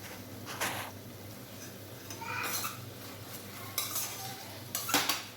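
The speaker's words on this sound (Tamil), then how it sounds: "போட்டு நல்லா கலக்கி விட்டுட்டு" A spoon stirs chili powder into tomato rice masala in a pan, making faint, scattered scraping clicks against the metal over a low background hiss.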